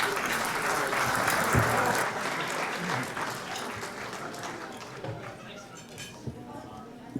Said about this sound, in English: Another big round of applause for this group.